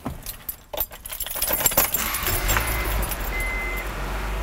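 Keys jangle near a Honda Civic with a freshly replaced ignition coil, then the engine turns over and settles into a steady, low idle rumble that continues to the end.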